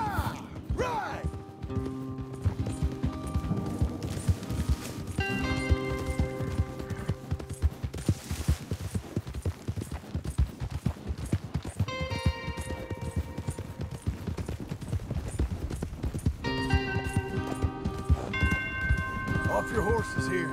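Horse hooves clip-clop steadily throughout in Red Dead Redemption 2, a continuous rhythmic trot under a loud layered game soundtrack and dialogue.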